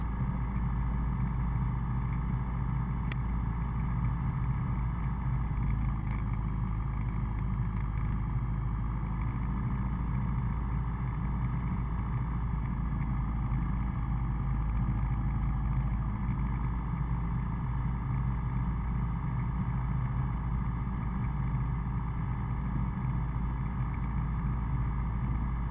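Aircraft engine running up on the ground at an airport during taxi, a steady loud droning hum that holds constant throughout with no voices.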